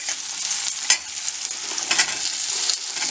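Green chilies and onions fry in a pan as they are stirred, a bright continuous sizzle close by, with a couple of sharper scrapes of the spoon breaking through.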